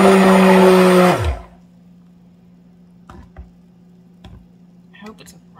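A loud electric stick blender mixing coconut milk soap whirs steadily for about a second, then cuts off, leaving a low hum and a few faint clicks and taps.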